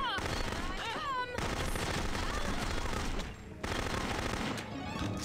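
Submachine gun fire in the shooter game No One Lives Forever 2 rattles in rapid, sustained bursts, loud and close, with a brief drop-off midway before the firing resumes.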